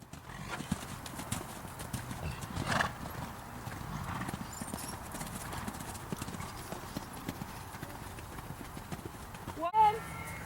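Horse hooves clip-clop in a steady rhythm at a fluid, sweeping gait during an equine evaluation ride, moderately near, with a brief whinny-like sound and human voices speaking over the hoofbeats.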